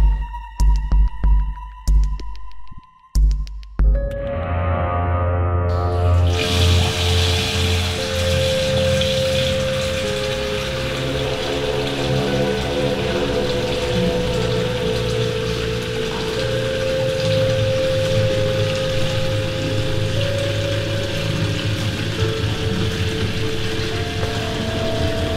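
A household tap turned on at night, starting with a sudden burst, then water running steadily and loudly for a long stretch after a few seconds of quieter sounds.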